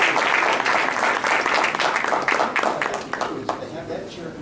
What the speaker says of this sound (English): give me a loud applause, please